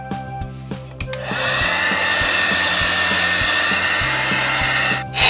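A hair dryer blows loud and steady on a dog after its shower, starting with a click after about a second and running continuously. Clicks and thumps come through at the start, with a short rustle at the end.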